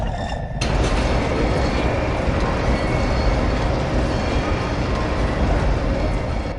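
Subway train rumbling beneath an underground passage near a red switch box, a loud, steady low roar starting abruptly after a brief quiet moment and continuing unbroken throughout.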